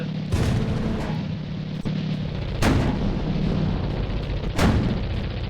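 Artillery fire in a tank video game: several heavy booms, a few seconds apart, go off over a dense, steady battle rumble.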